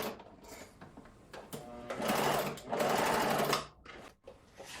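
A sewing machine runs in steady whirring bursts, stitching a facing onto wide leg pants. It starts with short stutters, then holds two longer continuous runs before stopping, all close and loud.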